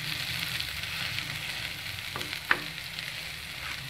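Masala French toast fries over low flame in a pan, a steady close sizzle with a couple of brief clinks and scrapes partway through, no talking.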